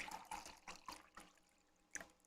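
Drink poured a little at a time into a glass, a soft splashing trickle in several short pulses, then a pause and one brief final drip, close and faint.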